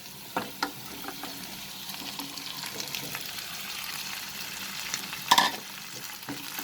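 Cauliflower sautéing in a pan for a chicken and cauliflower curry: a soft, steady sizzle broken by scattered spoon scrapes and taps, with one louder clatter near the end.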